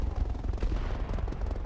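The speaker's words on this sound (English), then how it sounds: "Okay, thermobaric explosion there." A thermobaric explosion in the video game RogueTech erupts as a rolling, rumbling blast with rapid crackling bursts, loud and continuous.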